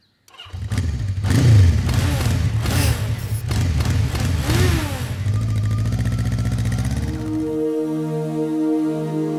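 A motorcycle starts with a cough, revs loudly in several sharp bursts, then settles into a steady idle before musical tones take over near the end.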